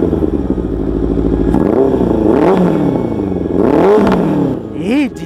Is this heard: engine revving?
yes